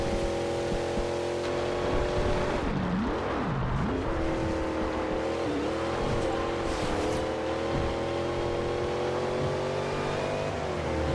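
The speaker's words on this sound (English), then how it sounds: "That V8 sounds pretty good as well." A big, heavy V8 car in Forza Horizon 2 revs hard and continuously at close range, its engine note rising and dipping as it climbs toward nearly 7,000 RPM, with no voices over it.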